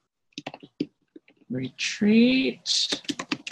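Clicks and taps of typing on a computer keyboard, sparse and irregular, mixed in with a person speaking.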